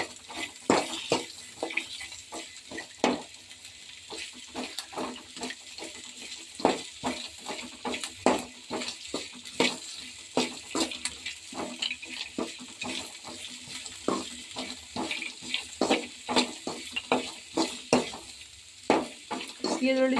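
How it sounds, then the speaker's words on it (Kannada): Ingredients for mandakki frying in a pan with onion, continuous stirring scrapes and clatter in a busy irregular rhythm over a low sizzle, close and moderately loud. "ಈಗ ಇದನ್ನೆಲ್ಲ ಸ್ವಲ್ಪ ಫ್ರೈ ಮಾಡ್ಕೋಬೇಕು. ಫ್ರೈ ಮಾಡ್ಕೊತಿದ್ದೀನಿ ನೋಡಿ."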